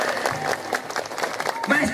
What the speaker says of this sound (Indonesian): Tepuk tangan untuk ajengan yang dekat.